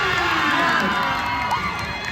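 A crowd at an upside-down stunt show cheers and shouts, a loud continuous roar with children's voices and whistles rising through it.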